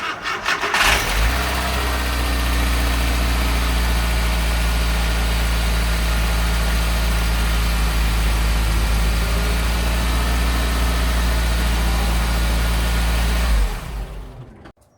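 A car with a VW AP engine, just reassembled after timing belt tensioning, cranks and fires, then idles steadily and loudly for over ten seconds before cutting off.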